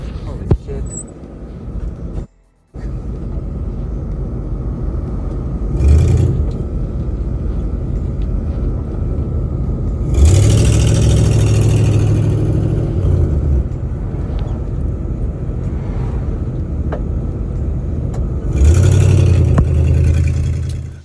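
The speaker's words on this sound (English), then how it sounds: "You're driving your 62 Impala down the road, coming to this four-way stop." A 1962 Impala drives down a road toward a four-way stop with failing brakes, its engine rumbling steadily and swelling in a few louder surges, with a brief cutout early on and voices talking over it.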